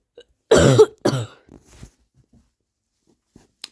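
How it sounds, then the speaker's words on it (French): Two sharp, close coughs in quick succession, followed by a few faint throat sounds and near silence. "Purée, qu'est-ce que je tousse"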